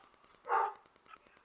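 One brief dog bark in the background, faint and muffled, standing alone with no talk over it.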